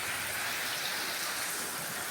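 Heavy typhoon rain pours steadily in the Philippine provinces, a dense, even hiss with no gusting wind, loud and continuous throughout.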